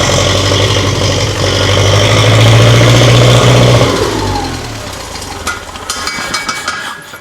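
A Ferguson TEA35 tractor engine, just started, runs loud and close with a steady low throb, holding a raised idle before easing down to an uneven, lumpy tick-over.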